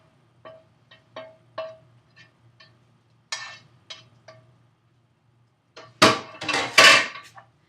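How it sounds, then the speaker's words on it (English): Chopped ingredients are put into a big bowl: a series of light clinks and taps of a utensil against the bowl, then a louder clattering scrape and thud near the end, close and without talk. "put everything into a nice big bowl"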